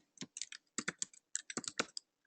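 Quick bursts of keystrokes on a computer keyboard, close and clear, clattering in short irregular runs separated by brief pauses.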